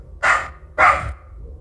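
A dog barks twice in quick succession, loud and close, with a short pause between the two sharp barks and no speech.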